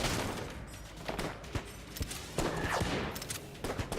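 Gunshots in the video game Enter the Gungeon, a dense string of quick popping shots and impacts at a steady clip over continuous game noise, moderately loud, with no voices.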